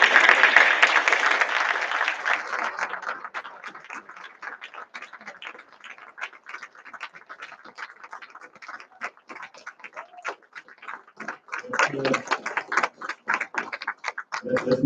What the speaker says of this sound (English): show your appreciation through a round of applause for the faculty and the staff